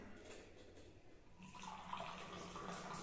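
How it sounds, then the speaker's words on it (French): Moroccan tea poured into glasses, a quiet liquid stream that swells into a fuller splashing pour partway through, close and faint. "il nous sert le bon thé marocain"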